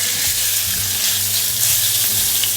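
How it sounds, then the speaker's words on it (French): Chicken fillet cubes sauté in brown butter in a very hot pan, giving a loud, steady, dense sizzle with faint stirring clatter throughout, no voices. "je vais les faire sauter dans une poêle très chaude"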